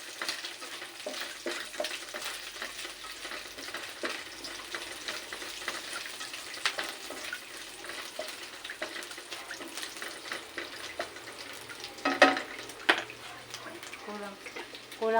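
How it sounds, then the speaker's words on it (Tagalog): Meat stirred and frying in a pan for moringa pod adobo with string beans, a soft steady sizzle with scraping stir strokes and a brief louder clatter near the end, faint and close. "Halo-haloin natin yung karne para masarap."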